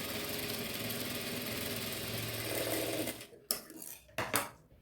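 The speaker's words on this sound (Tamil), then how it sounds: "ஸ்ட்ரைட்டாக ஸ்டிச் பண்ணிக்கலாம்." A sewing machine runs steadily, stitching a straight seam on frill pillow cover fabric, with a close, continuous whirring hum for about three seconds before stopping, followed by a few short handling clatters.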